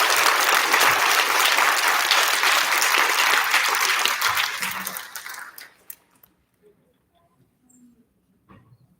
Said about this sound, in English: Big round of applause for our 4th graders.